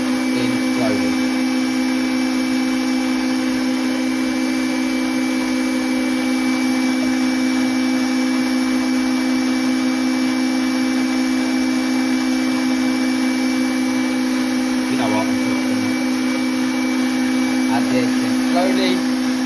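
Electric mixer whisking butter, sugar, chocolate and egg for a mint and chocolate marble cake, a steady close motor whine that holds without a break, with faint scraping or clinks now and then.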